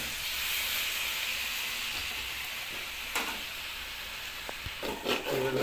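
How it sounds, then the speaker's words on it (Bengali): Water poured into a hot pan of soybean masala hisses and steams in a steady sizzle, with a few sharp clinks and scrapes of stirring toward the end. "হালকা জল অ্যাড হচ্ছে।"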